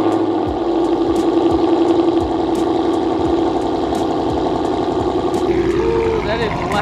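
Supercharged Toyota GT86 fitted with a UEL Subaru rumble exhaust, running loud and close with a steady, lumpy burbling drone and a slight change in tone near the end, with people talking over it.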